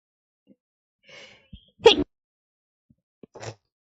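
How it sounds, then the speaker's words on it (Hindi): A woman gives a single sharp sneeze close to the microphone, preceded by a faint intake of breath and followed by a brief quieter sniff or second burst. "बच्चों छींके आ रही है ना,"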